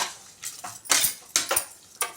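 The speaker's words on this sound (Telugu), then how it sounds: "చింతపండు, అలాగే సాల్టు, రాళ్ళుప్పు ఇప్పుడు వేసుకొని ఒక్కసారి దీన్ని కలుపుకోవాలి." A spoon clinks and scrapes against a pot while mango dal with tamarind and rock salt is stirred, a few sharp irregular knocks spaced through the moment.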